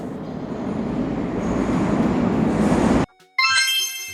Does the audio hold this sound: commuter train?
yes